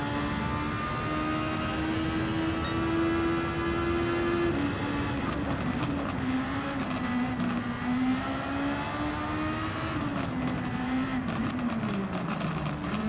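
A Formula 1 car engine in fifth gear in a racing video game drones at a steady high pitch, then climbs and dips with shifts in revs, loud and continuous with no talk over it.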